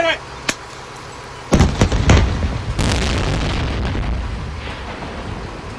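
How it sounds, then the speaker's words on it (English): Explosive charges bring down old steel-mill smokestacks in Yorkville, Ohio: sharp blasts crack out, then a heavy, rumbling roar of collapse rolls on and slowly fades, heard from a distance. "We just watched our Yorkville smokestacks get blown to pieces."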